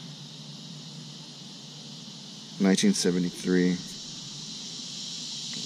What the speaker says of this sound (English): Wow, those cicadas are loud, aren't they?